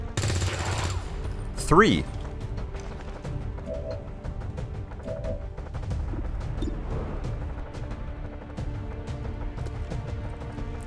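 Scattered gunshots and impacts crack in XCOM 2: War of the Chosen, one sharp louder burst early on, then sporadic shots and clatter under a low ambient rumble while a voice briefly calls out.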